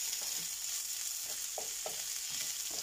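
Onions seasoned with salt and pepper fry in a pan with a soft, steady sizzle, joined by faint scraping stirs, quiet and close with no voices.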